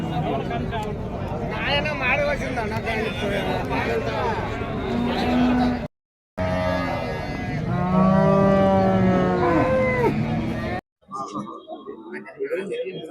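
Cattle moo at a cow market in Karunkalpalayam. Several drawn-out lowing calls rise and fall amid crowd noise and people talking nearby.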